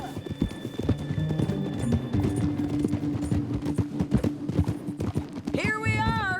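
A horse gallops in Red Dead Redemption 2, its rapid hoofbeats pounding steadily and close throughout, under in-game music, with a whinny rising near the end.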